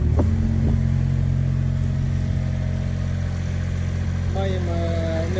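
A Bomag BW 120 AD-4 road roller idles with a steady low diesel drone and its water sprinkling running, a few clanks early on and a brief higher tone near the end, with a voice speaking faintly over it.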